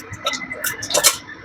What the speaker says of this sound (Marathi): मोहरी टाकून घेते